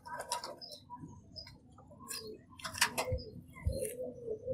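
A young pigeon, a Teddy baby pigeon about three to four weeks old, gives a few soft, breathy coos and rustling calls up close, quiet and intermittent with brief pauses between them.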